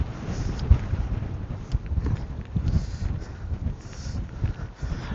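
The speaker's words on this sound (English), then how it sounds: "But now the wind is quite strong." Strong wind at a beach by the seaside town of Hayle buffets the microphone with a continuous low rumbling roar and uneven gusts, with no voices heard.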